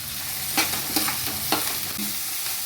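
Onion, carrots and beans frying in oil, a steady close hiss of sizzling with a few stirring scrapes and clicks from the pan, no voices.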